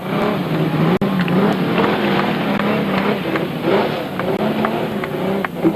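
An autocross car engine runs as the car is driven in at a classic and sports car club show, a steady nearby motor hum with slight revving changes.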